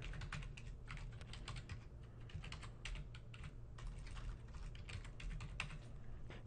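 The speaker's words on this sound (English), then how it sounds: "Enter your username and password." Steady rapid clatter of keys on a computer keyboard as a username and password are entered into a login dialog, close and continuous with brief pauses between bursts and a low hum beneath.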